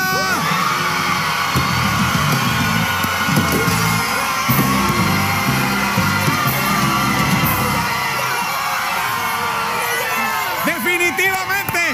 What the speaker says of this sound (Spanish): ¡Aplausos para Aguadilla!